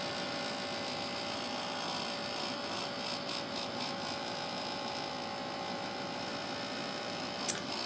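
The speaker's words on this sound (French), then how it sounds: "mon sèche-cheveux qui fait des bruits bizarres" A hair dryer making strange noises runs steadily as a loud, continuous whirring hum with a faint tonal whine throughout, no pauses and no talking.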